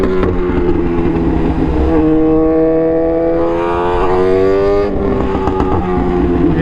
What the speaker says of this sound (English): Literally brutal exhaust sounds from the